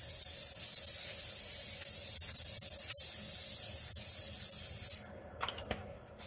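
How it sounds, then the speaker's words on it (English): A continuous hiss of a nearly empty canola oil spray can held for several seconds, then it stops, followed by a few light clicks and handling sounds. "Get my canola oil spray, running very low."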